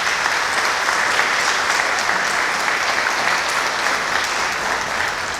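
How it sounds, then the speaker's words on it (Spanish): Audience at a book launch event giving a strong round of applause, dense sustained clapping from a large crowd, close and loud, fading slightly at the end. "por favor, un fuerte aplauso."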